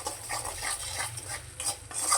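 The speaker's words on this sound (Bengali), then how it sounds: "নুন আর চিনিটা ভালো করে মিশিয়ে নেব।" A spoon stirs salt and sugar into a pointed gourd and peanut masala in a pan, giving soft, repeated scraping and clinking strokes in a loose rhythm over a faint low sizzle, close and fairly quiet.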